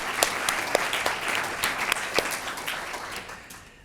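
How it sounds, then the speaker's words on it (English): An audience applauds at a community showcase event, a dense, steady wash of many hands clapping that holds for several seconds and slowly tapers off. "So again, another round of applause and thank you to Tom."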